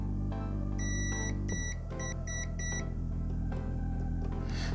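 A multimeter on continuity setting, probing solder pads on a DIY gamepad built from an old landline phone, gives a series of short electronic beeps, several quick repeated tones, then a longer one, fairly quiet over a low hum.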